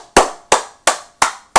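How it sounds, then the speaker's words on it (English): Hand clapping from one person standing alone after a football game, four sharp, loud claps at an even pace, then a fifth starting, with nothing else in the background. "so he started to clap"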